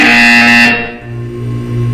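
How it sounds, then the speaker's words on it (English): A loud, harsh buzzer sounds in the video game Portal 2, a sustained electronic drone that cuts off abruptly, leaving a lower lingering tone. "You will hear a buzzer."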